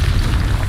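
A Confringo blasting spell explodes in Hogwarts Legacy, producing one brief, deep, booming burst with a heavy low rumble that stays loud through the short moment.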